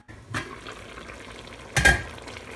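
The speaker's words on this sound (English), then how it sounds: "So now we're going to add our tomatoes and break them up a little bit. Then stir it up a little." Tomatoes are stirred and broken up in a pot of chili, with a low simmering sizzle broken by two distinct scraping bursts of a utensil against the pot.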